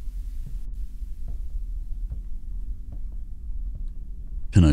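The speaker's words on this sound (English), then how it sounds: "Hear my heart beating." A slow, low heartbeat thumps in a video game, soft repeated pulses about every second over a dull hum, ending in a sudden louder burst.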